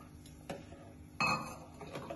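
A few spoon-and-metal clinks and a brief clattering rustle inside a pot as sugar goes into kaon rice payesh, each hit short and close against a quiet kitchen background.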